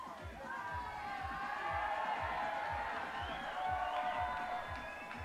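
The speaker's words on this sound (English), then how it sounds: "You can hear the crowd getting behind Alex there." Crowd cheering and whooping at a bouldering final of the IFSC Climbing World Cup in Vail, a steady roar of voices that rises and falls in waves, with a low rhythmic thumping underneath.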